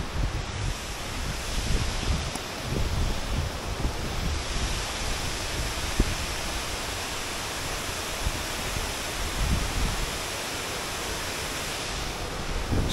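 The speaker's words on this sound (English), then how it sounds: "Another waterfall." Waterfall at Aber Falls in North Wales, a steady broadband roar of rushing water that stays loud and unbroken throughout, with no voices over it.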